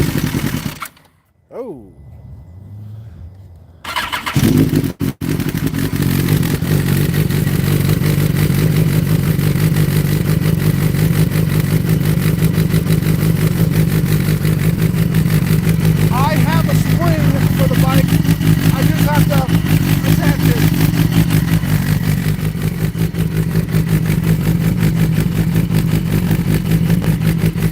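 A new motorcycle cold-starts with a sharp burst, then settles into a loud, steady idle that runs on and on close by, with brief talk over it near the start.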